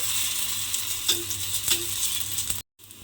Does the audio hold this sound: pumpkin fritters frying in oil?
yes